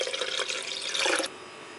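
One cup of cold water pours into a blender for spiced buttermilk, a bright, splashing stream lasting just over a second before cutting off abruptly.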